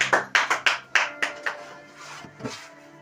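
A church congregation claps in applause for Jesus. A burst of loud, quick claps comes first, then thins into scattered, fainter claps that fade out within a few seconds.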